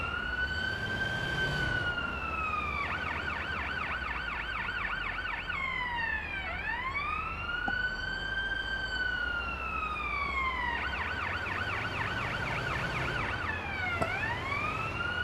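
A loud ambulance siren wails continuously, alternating between a slow rising-falling sweep and a rapid warbling yelp, close by with steady traffic rumble underneath.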